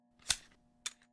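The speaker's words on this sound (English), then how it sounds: "Okay, rack the slide." Pistol slide being racked in the shooting game Receiver 2, two sharp metallic clacks about half a second apart, the first louder with a short ringing tail, over a faint steady hum.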